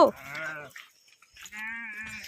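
Two close, loud sheep bleats, separated by a brief quiet pause.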